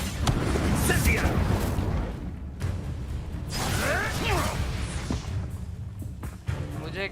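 An Incendio fire spell whooshes and roars in the Hogwarts Legacy video game, with two surging bursts of flame and rushing noise over busy game sounds, a sharp crack near the end.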